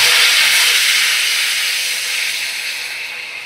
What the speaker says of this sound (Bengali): এবার দেখো পরিমাণ মতো জল দিয়ে দিচ্ছি।